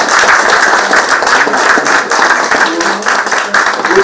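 An audience claps during the handover ceremony for Kenya's attorney general, a loud, dense round of applause from many hands that holds steadily for the full few seconds, with a voice briefly audible underneath.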